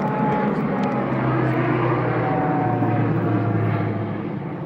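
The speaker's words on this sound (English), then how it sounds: "We're on a runway here, which normally doesn't most airplanes don't come over until I start videoing." A propeller airplane drones loudly overhead above a runway, a steady broad roar that begins to fade slightly toward the end.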